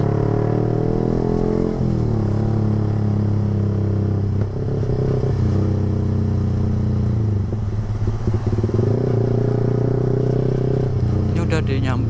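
A Yamaha R15 V3 motorcycle pulling hard at full throttle, its engine note climbing and shifting through gears, loud and steady with wind roar, as a rider talks over it.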